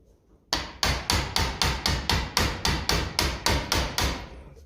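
A lump hammer striking a diesel injection pump part from a Ferguson 20 TEF tractor, about fourteen loud, sharp metallic blows in a steady, even rhythm, each ringing briefly before the next.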